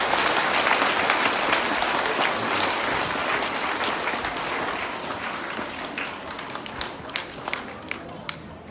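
Schoolchildren at an assembly applauding a departing teacher, a dense roomful of clapping that stays loud then thins out into scattered individual claps.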